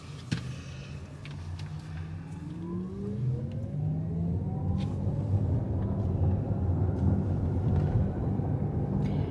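A Porsche supercar in normal mode accelerating from inside the cabin, its engine note rising in smooth sweeping pitch climbs over a steady rolling road rumble, with no talking.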